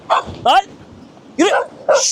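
A tense dog barks in short repeated bursts, loud and close, while someone shouts commands at it between the barks.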